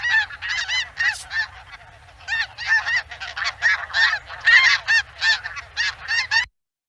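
A large flock of geese honking loudly and repeatedly as the birds take off together outdoors, a dense overlapping chorus of calls in bursts that stops abruptly at the end.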